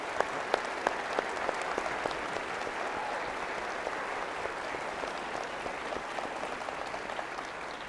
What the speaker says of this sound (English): please give these two participants a round of applause